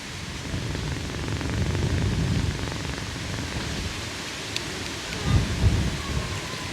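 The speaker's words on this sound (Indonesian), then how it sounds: "anginnya kencang sekali" Strong wind roars near a lava dome on Merapi volcano. The gusts are loud and continuous, with rumbling buffets that swell toward the end.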